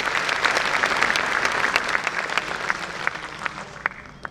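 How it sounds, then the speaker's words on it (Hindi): Loud applause from an audience at a Hindi kavi sammelan poetry event, dense clapping that holds steady then thins slightly toward the end, with a few sharp individual claps standing out, no talk over it. "जोरदार तालियों से स्वागत करें सुदीप भोला जी का।"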